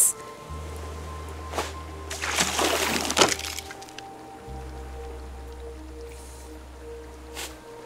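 Salt water cooking in a cup on a purifier in the Raft survival game, with a low steady hum and soft squishy bubbling and dripping bursts in the middle, fairly quiet and without talk.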